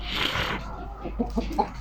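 Black-and-white Leghorn chickens cluck softly in short scattered bursts, close by, over a low steady background hum.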